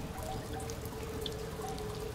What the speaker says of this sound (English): Creepy water sound.